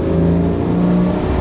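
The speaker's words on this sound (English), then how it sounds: "yeah, it's really bogging down, this engine." A Ferrari 412 engine runs rough and bogs down, unhappy under load: a loud, close, steady mechanical drone with a low rumble, heard alone for a short moment.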